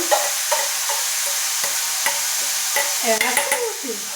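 Onion, beetroot and green chili with salt frying in a pan, stirred with a spoon: a continuous near sizzle under regular scraping strokes roughly twice a second, getting quicker and busier toward the end.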